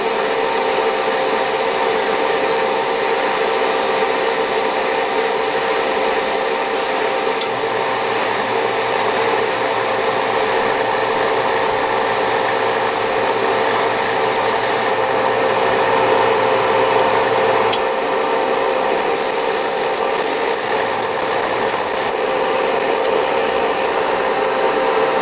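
An airbrush sprays in a long, continuous airy hiss, loud and close, with slight shifts in tone as the spray is adjusted and brief changes near the end.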